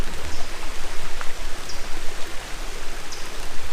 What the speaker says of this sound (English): got that babbling brook to keep me listening to all night